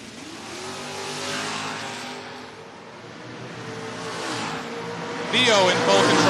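Drag race launch of a Chevy Camaro and a Chevy Malibu at a Door Wars event, engines rising loud and steady with a sharp revving surge near the end, under continuous announcer-style commentary.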